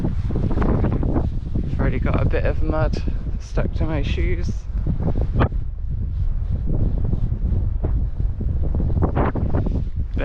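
Gusty wind buffets the microphone on a wet, muddy countryside walk to Castle an Dinas, a steady low roar and rumble running under a voice throughout.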